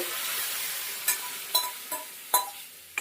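Urad lentil dal hits a hot pan with a soft, steady sizzle while a spoon scrapes and taps in several sharp clicks. The sound is quiet and close, with no talking.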